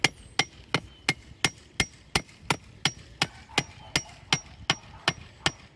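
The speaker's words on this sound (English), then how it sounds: "anytime you pound on a wooden stake like this with a steel hammer" A steel hammer pounding a wooden stake into garden ground near a buried water line, about sixteen sharp, even blows in steady rhythm, close and loud with no talk.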